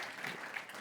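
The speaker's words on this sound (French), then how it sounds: "Ça s'applaudit. Bravo." A brief burst of audience applause at a business presentation, a dense patter of clapping hands with a faint voice underneath.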